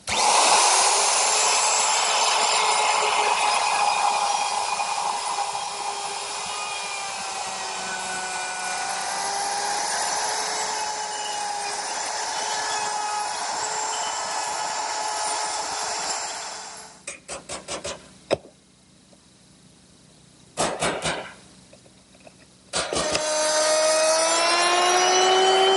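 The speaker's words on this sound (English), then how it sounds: "I'm going to use my router with a collar and a straight cutting bit" A woodworking router with a collar and straight bit cuts a rabbet in pine along a clamped straight edge, a loud steady high whine for about seventeen seconds, then cutting off with brief bursts and a restart.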